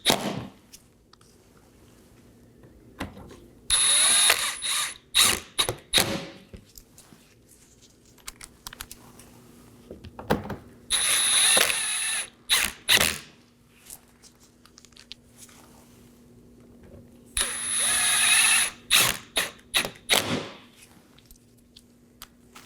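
A ratchet snugs down 7mm bolts under the bumper of a Chevrolet Equinox, giving three separate bursts of quick clicking with quiet pauses between them.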